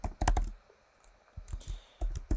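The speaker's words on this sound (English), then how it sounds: "we can test it out by typing" Close-up typing on a computer keyboard: short bursts of crisp key clicks, a quick cluster, a pause, then more scattered taps and a final flurry, with no talking.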